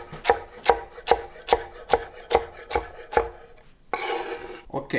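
A knife cubes celery on a cutting board in eight evenly spaced, crisp chops, followed by a short rustling scrape as the pieces are gathered.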